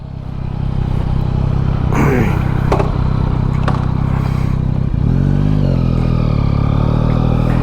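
A Yamaha MT-09 motorcycle fitted with wooden handlebars rides off, its engine rumbling steadily close by, with a few sharp clatters and scrapes early on and a rising rev toward the end.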